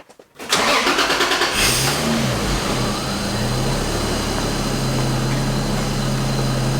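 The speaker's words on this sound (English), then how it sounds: "Okay, we'll start the car." A Toyota 2JZ-GE engine cranks briefly with quick starter chatter, catches, then settles into a loud, steady idle that runs on without talk.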